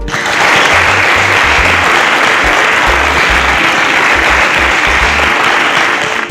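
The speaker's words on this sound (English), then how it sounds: "A round of applause for them." A studio audience applauds a group of contestants who have just qualified for the advanced round of a competition show, steady and loud clapping filling the whole stretch without talk.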